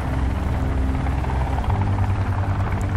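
Helicopter in the video game Sons of the Forest, a steady droning rotor hum with a low thumping pulse that thickens slightly partway through, continuous and fairly loud with no talk.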